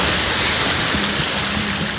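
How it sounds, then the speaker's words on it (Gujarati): Floodwater rushing past in a broad, loud, unbroken roar, close by and steady, with no voices over it. "અહીંયા તો પૂરની પરિસ્થિતિ થઈ ગઈ લાગે છે."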